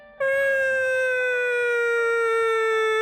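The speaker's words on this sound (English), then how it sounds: "every time I do that noise, my editor puts an ambulance in the background" An ambulance siren sound effect enters abruptly with a loud, sustained tone that slowly falls in pitch, heard alone and close.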